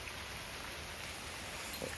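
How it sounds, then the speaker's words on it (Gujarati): Heavy monsoon rain falls in a steady, even hiss that fills the whole clip at a moderate, constant level, with no talk. "તમે જોઈ શકો છો વરસાદી માહોલ છે ને વરસાદ ખૂબ જ બાકા ચીકી બોલાવે છે"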